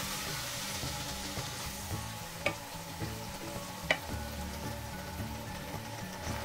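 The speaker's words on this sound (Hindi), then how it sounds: "और मसाला के साथ मिक्स करके मेथी को कुक कर लूंगी" Fenugreek leaves frying in oil with masala, stirred for a gobi methi sabzi: a steady close sizzle with soft scraping strokes of the spoon and two sharp clicks of the utensil against the pan.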